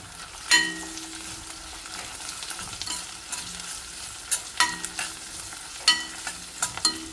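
Ginger, curry leaves and green chilli frying in a pan for a small onion curry, a steady sizzle with repeated spatula scrapes and clinks against the pan, close and clear, no voices.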